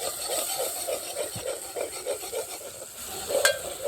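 Onions stirred in a pan while Maggi noodles cook outdoors, a soft continuous frying hiss with rhythmic scraping strokes of a spoon, moderately close, ending with a brief sharp clink.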